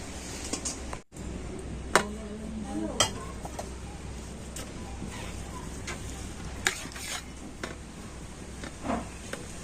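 Cooked gram flour mixture with a little milk powder is scraped from the pan into a ghee-greased plate, with quiet clinks and spatula taps over a low background hum.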